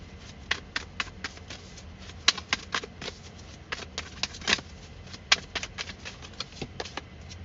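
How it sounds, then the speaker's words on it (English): Oracle cards are shuffled by hand up close, a quick irregular run of crisp riffling flicks and soft slaps repeating throughout, with no voice. "Let me get an oracle card out for this."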